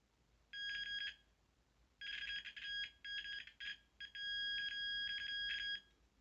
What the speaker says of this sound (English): this will make an audible sound when there's continuity